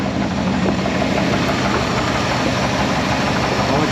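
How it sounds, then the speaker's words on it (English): A muscle car wagon's engine idles steadily and close up with a dense, continuous rumble, its bad intake lifter adding a faint ticking through the drone, with no talk. "So it's that lifter right there. Is the bad lifter."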